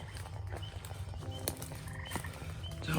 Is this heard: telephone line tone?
no